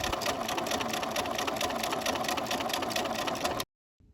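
A sewing machine runs steadily, stitching straight down the side of a fabric piece for a stuffed three-dimensional object, with a continuous motor whir for about three and a half seconds before stopping abruptly.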